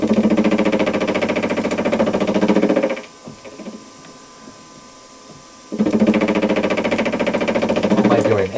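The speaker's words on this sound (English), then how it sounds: "on camera this sounds like it's really knocky, like it's really banging with the fly cutter as it cuts across." A new milling machine's fly cutter knocks and bangs rhythmically as it cuts across a vise clamp workpiece at 850 RPM, loud and continuous, with a quieter gap mid-way before the heavy cutting resumes.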